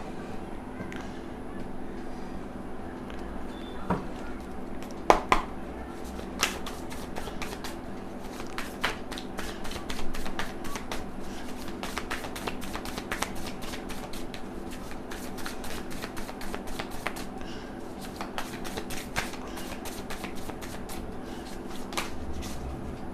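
Tarot cards are shuffled steadily for over twenty seconds, a rapid run of close, crisp riffling clicks that keeps going over a low, constant background hum.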